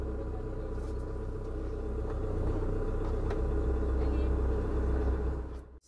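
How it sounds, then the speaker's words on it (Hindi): A car engine idling steadily just after being started, a close, even low rumble with a faint hum that holds throughout before cutting off at the end. "देखिए गाड़ी स्टार्ट हुई"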